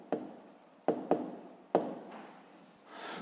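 A pen scratches out a math answer on paper, four sharp taps followed by short scratchy strokes, close and quiet.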